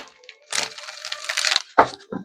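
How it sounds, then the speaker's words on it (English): Tarot cards shuffled by hand at a spiritual reading, a quick papery riffle that builds into a steady flutter for about a second, ending with a couple of sharp slaps as the deck is squared. "One more shuffle."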